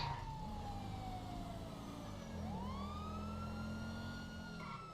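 Stolen police car siren in the GTA 5 video game wails steadily and loudly, with rising and falling sweeps over a low engine rumble, no talking.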